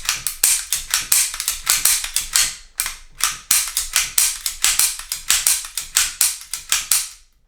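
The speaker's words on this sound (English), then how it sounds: "Don't know if that's actually good for it, dry firing it that much." An Umarex T4E paintball pistol is dry fired over and over, giving sharp, close mechanical clicks in quick rhythmic bursts with brief pauses between groups, and no talk.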